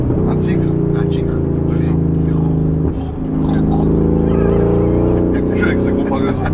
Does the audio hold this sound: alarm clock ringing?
no